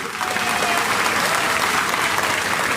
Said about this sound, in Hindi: उनके नाम की जरा एक ताली लगाएं।